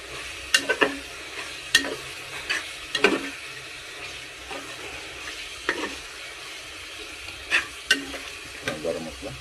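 Chicken masala frying and being stirred in a pan, a steady soft sizzle broken by scraping stirs at irregular intervals, close by and with no talk.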